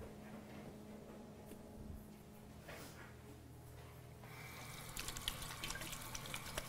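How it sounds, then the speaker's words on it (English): Tap water runs over hands being washed in a kitchen during a fondant cake-covering session, a faint steady stream that grows splashier near the end. "Wash this off my hands"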